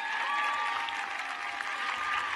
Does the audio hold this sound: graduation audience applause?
yes